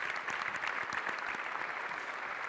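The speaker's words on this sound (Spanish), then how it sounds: "en agradecimiento un fuerte aplauso a Rafa por haber participado." Audience applause in a room after a talk on training methods for quick kick-off situations, dense steady clapping filling the whole moment with no voices.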